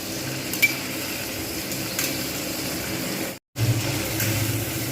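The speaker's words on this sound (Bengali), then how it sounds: "আমি ভেজে রেখে দেবো অতিরিক্ত ভাজবো না" Steady sizzling of shrimp frying in a pan with faint scraping clinks, cut by a brief gap of silence.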